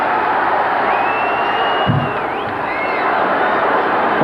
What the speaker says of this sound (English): Look at the mob scene on the court.